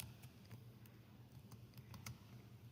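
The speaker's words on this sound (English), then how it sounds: "I'm just going to type the word finished in all caps" Keys tapped on a computer keyboard to type a single word in capitals, a short burst of a few quiet, irregular clicks heard close against a low steady room hum.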